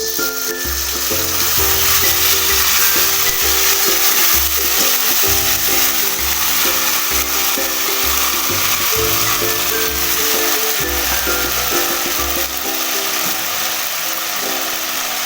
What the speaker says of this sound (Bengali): এবার আমি বেটে রাখা মশলাটা এতে অ্যাড করে দেব